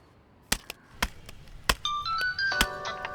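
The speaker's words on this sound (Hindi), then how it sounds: "आपका फोन बज रहा है, देखो यार।" A few sharp chopping taps, then an electronic phone ringtone starts up, playing a bright stepping melody fairly close by.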